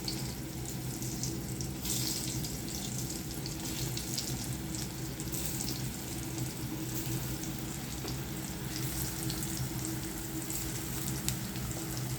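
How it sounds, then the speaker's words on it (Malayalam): Marinated pieces sizzle in hot oil in a pan, a steady dense hiss and crackle that continues evenly without pause. "എണ്ണ ചൂടാവുന്ന ഉടനെ ഓരോന്നായിട്ട് ഇട്ട് കൊടുത്ത് വറുത്തെടുക്കാം"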